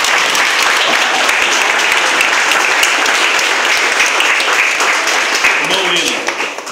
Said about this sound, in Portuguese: Pode aplaudir a igreja.